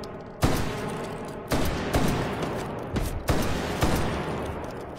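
A SPAS 12 semi-automatic and pump-action shotgun fires in the VR game Hot Dogs, Horseshoes and Hand Grenades, five sharp loud blasts spaced roughly a second apart, each trailing into a dense rumbling echo.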